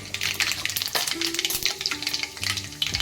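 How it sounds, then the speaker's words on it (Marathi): Mustard seeds and cumin crackle and sizzle in hot oil, a busy spattering fry with sharp pops over a few seconds, close and clear. "आता आपण त्यामध्ये राई टाकणार आहोत त्यानंतर जिरं"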